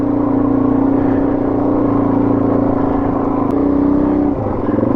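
A 4WD idles steadily on the Creb Track, its low engine drone loud and continuous throughout, dipping slightly near the end.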